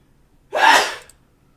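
A single sharp sneeze, close and fairly loud, bursting out suddenly and fading within about half a second, with quiet before and after.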